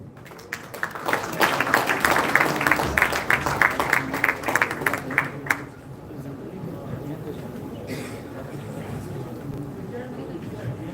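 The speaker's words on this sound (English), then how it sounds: "let's give a big round of applause" An audience at an innovation event in Goa claps steadily for about five seconds, then the applause stops and only quiet room murmur remains.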